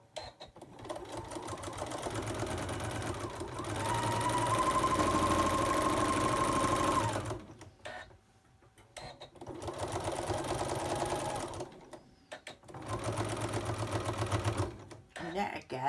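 A sewing machine stitches binding onto a Santa pot holder in two sustained runs, each with a steady mechanical whir, separated by a brief pause and short stops near the end. A voice talks over the machine.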